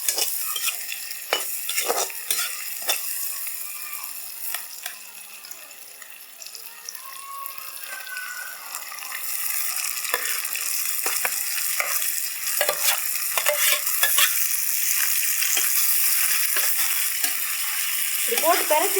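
Chicken pieces fry and get turned over with softened onion and tomato for a village-style chicken curry, a loud sustained sizzle with repeated scraping stirs and clatters of the spoon, building in intensity, with no talking.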